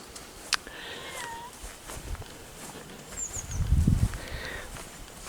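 A cat gives a couple of soft, faint meows in a quiet outdoor setting, with scattered rustling and light footstep-like sounds around them and a brief low rumble partway through.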